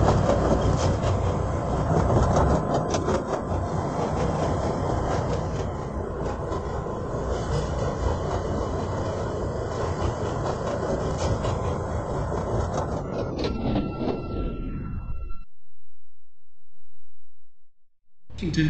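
A CTA Pink Line train running in the game Roblox, a continuous loud rumble of wheels and rails with faint clatter, then a sudden cutoff into silence near the end.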